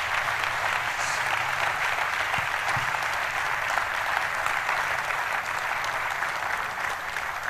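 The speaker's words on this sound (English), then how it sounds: "Can we put your hands together for them tonight?" A church congregation breaks into steady, sustained applause filling the room at a constant level throughout, with a faint murmur of voices underneath.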